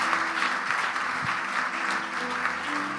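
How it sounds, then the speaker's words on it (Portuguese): A church congregation applauds during a Sunday celebration service, a steady, dense wash of many hands clapping that fills the room at a fairly constant level throughout. "Queria que você aplaudisse a Deus pela vida do Rafa."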